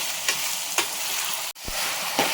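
Potatoes, green chillies and onions frying in a pan, with a spatula stirring them. A steady, soft sizzle runs throughout, broken by a few scraping strokes and one brief knock, and nobody speaks.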